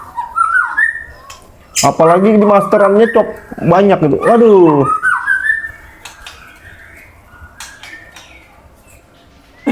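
A caged murai (magpie robin) songbird trains toward strong song, giving bright, varied whistled phrases near and loud in bursts, with someone talking briefly over them.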